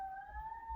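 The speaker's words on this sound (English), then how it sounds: "Sorry about the sirens in back." A police siren wails in the background, a steady two-tone whine held for under a second with low rumble underneath and no talk.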